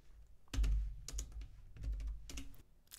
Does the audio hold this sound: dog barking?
no